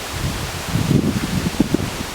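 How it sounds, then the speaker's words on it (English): Gusts of wind buffet the microphone at a Perth bush camp, a low rumbling rush that swells briefly in the middle and settles again. "It's quite windy, as you can see."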